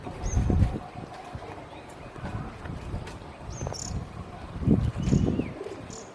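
Pigeons in a loft give soft low cooing bursts, with faint chirps and insect-like trills in the background and a few scattered knocks.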